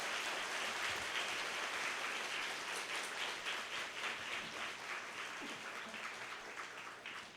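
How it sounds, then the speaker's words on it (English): A lecture audience applauds its speaker at the close of an evening talk at National Taiwan University, steady dense clapping from a crowd heard at moderate distance, continuing evenly before tapering slightly at the end. "Please again give our honorable speaker an applause."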